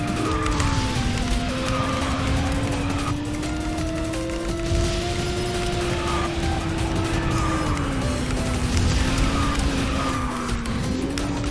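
A kart with an item-kart body and HT engine races through a kart racing video game, its steady engine drone rising and falling continuously with tire noises layered over the top.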